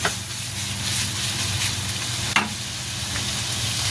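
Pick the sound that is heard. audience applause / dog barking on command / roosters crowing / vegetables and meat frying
vegetables and meat frying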